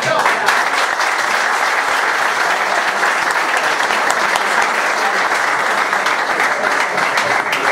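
Dense, steady applause from the audience at a gathering welcoming the new Messina team, loud and continuous for the whole stretch with no break.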